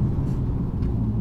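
Simulated exhaust burble from a Mercedes-AMG E63 S W213 facelift plays through the car's speakers as a close, steady low rumble with faint pulsing.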